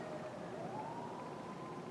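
A siren from an emergency vehicle rises and wails outside, steady and fairly faint, set under a broad wash of room and street noise.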